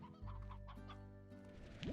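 Hens cluck in the video game Slime Rancher, a close, clear run of rhythmic clucks and short calls with no talking over them.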